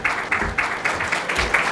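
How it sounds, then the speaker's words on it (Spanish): Audience at a conference on risk management in mining construction clapping to welcome a speaker, a rhythmic pattern of fairly even claps about every quarter second, moderately close and steady for the whole stretch. "Por favor, lo recibimos con un cálido aplauso."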